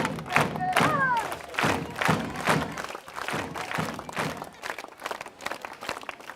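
Village audience at a Gram Clean Project inauguration clapping to welcome the chairman onto the stage, a steady crowd applause with a thumping quality, fairly close and sustained.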